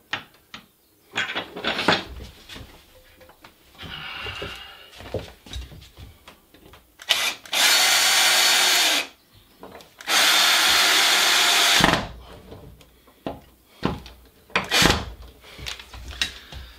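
A power drill runs in two long, loud sustained bursts amid clattering handling noises and tool clicks while a shipping container entrance is being built.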